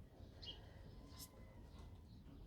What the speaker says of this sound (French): Les oiseaux chantent, ils sont heureux.